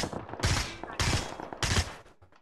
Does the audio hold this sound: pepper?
no